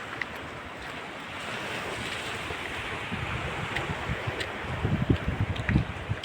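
Sea waves wash and rumble at a distance under steady wind buffeting the microphone, the surf swelling louder toward the end, at low tide near Hedvi.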